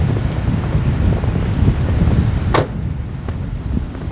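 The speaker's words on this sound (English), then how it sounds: "That wind didn't help any either." Outdoor wind in a snowy camp beside a hot tent after four inches of snowfall, a loud continuous rushing roar close to the microphone with a sharp brief knock partway through.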